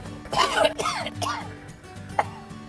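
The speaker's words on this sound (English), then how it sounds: "this stuff makes me cough" Several harsh coughs, triggered by ghost pepper salt and vinegar seasoning, in a quick cluster, close and fairly loud, followed by a short single cough after a pause.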